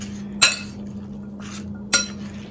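Spoon clinks twice against a bowl while fruit chaat is mixed with chaat masala, two sharp knocks spaced over a steady low hum in a quiet kitchen.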